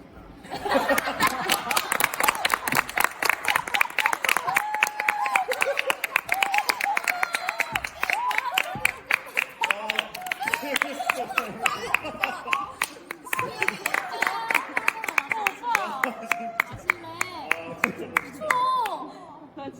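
An audience at a university theatre department's graduation performance claps in a long, dense run of hand claps, mixed with nearby chatter and laughter close to the listener.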